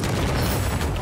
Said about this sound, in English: That's a tow missile.